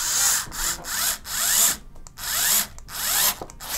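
A power drill runs in short repeated pulses, driving screws into a plastic hard drive caddy during an Xbox One S hard drive replacement, with about six close, loud bursts separated by brief pauses.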